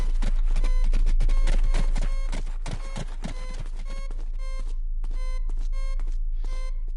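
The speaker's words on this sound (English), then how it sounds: "you'll know when you got a cold spot when you hear a unique noise. It'll be like beep beep beep" Repeated electronic beeping from the cold spot detector in Fortnite's Day of Doom mode, a steady series of short, evenly spaced tones over clattering game sounds, loud and close with no talk.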